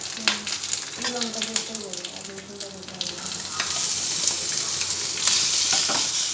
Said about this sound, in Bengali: চপ আমার ভাজা হচ্ছে